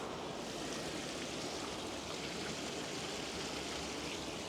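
Water flows with a soft, continuous murmur beside a footpath winding through banana and sugarcane plantations near the ocean, an even hiss with no breaks.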